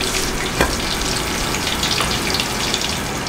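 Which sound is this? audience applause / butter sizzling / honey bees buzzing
butter sizzling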